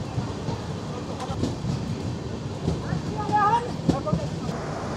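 Radhikapur Express passenger train running toward Katwa Junction, a steady rumbling rattle of carriages with a few sharp clanks and squeals, people talking over it.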